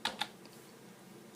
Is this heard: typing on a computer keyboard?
yes